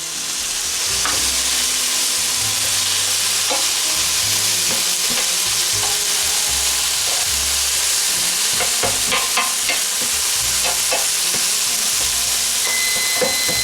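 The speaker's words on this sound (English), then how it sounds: "Okay, we're gonna do one final stirring now." Food cooking in a pan with a steady loud sizzle and repeated scraping stirs that speed up into a cluster of quick strokes toward the end, close up and without speech.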